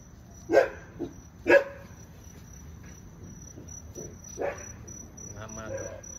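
A dog barks outdoors, with two quick barks close together and another a few seconds later, over steady high-pitched cricket chirping.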